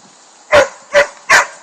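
Three sharp, loud barks from a nearby dog on a churned-up outdoor walking path with home boarding and daycare dogs, evenly spaced about half a second apart.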